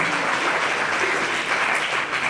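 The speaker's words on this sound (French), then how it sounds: "On peut applaudir, s'il vous plaît." Brief burst of dense audience applause in a hall at a student debate, steady and fairly close with no voices over it.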